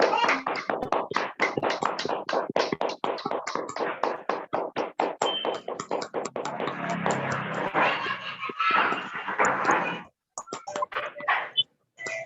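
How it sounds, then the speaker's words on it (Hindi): An audience at a business seminar claps to welcome a guest, a sparse group giving distinct individual claps that build into a brief, fuller round before trailing off into a few scattered claps. "आप सभी लोग स्वागत कीजिए जोरदार तालियों से"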